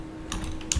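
A computer keyboard gets a couple of quick keystroke clicks while a code comment is typed, with brief close taps over faint room hum and no speech.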